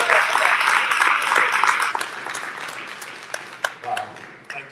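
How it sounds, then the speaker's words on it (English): An audience at a community event claps, starting dense and loud, then thinning into scattered claps and fading, with a voice speaking over the tail end. "So let's give them one last hand"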